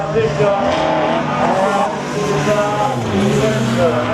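Rally car running a slalom course at the Lessay 2022 slalom final, engine droning steadily and loudly throughout, with a commentator's voice over it.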